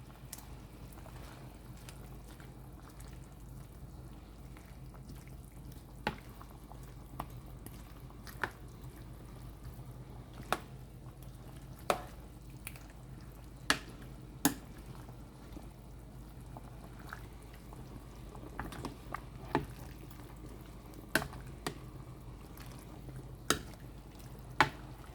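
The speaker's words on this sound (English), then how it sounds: "So let the greens dip it into the boiling soup." Chicken and vegetable soup with lemongrass simmers at a quiet, steady boil, with soft bubbling and scattered small pops and drips throughout.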